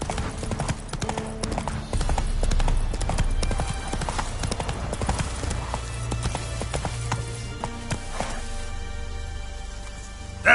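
Roach the horse's hooves clip-clop in rapid rhythm in The Witcher 3, a steady gait of close, distinct hoof strikes with game ambience behind.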